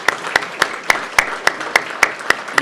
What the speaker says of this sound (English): can I ask everyone for a round of applause for all of us for coming out today